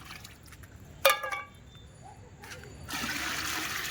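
A bucket of water mixture is tipped onto garden plants: a brief clink, then a splashing rush of poured water that swells near the end, close and moderately loud.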